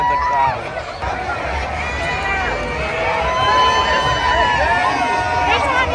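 A dense outdoor crowd at a street festival parade in East Atlanta chatters and bustles all around, a loud, steady hubbub of many voices with no single speaker standing out.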